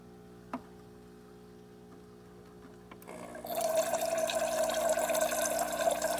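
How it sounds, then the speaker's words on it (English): Hot water runs from the dispenser of a Saeco Incanto espresso machine after a full service. A faint click and quiet hum come first, then a close, steady rushing and hissing flow starts and keeps going. "Now I'm just going to run some hot water to see how that's going."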